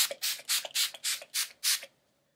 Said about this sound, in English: I'm going to take the coconut spray